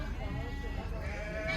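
Sheep bleat amid the bustle of the Kyzylorda livestock market, with wavering cries rising over a crowd and voices talking nearby.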